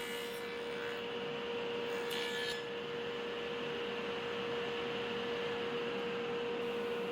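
A saw cuts through wood for stave core interior doors, the workpiece set against a fence stop, giving a steady, continuous grinding rasp with a constant motor hum underneath and no talking.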